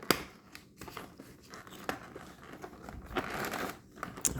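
Scissors snip the ties holding a Monster High doll in its packaging. Sparse close clicks and cuts mix with plastic and cardboard crinkling and rustling.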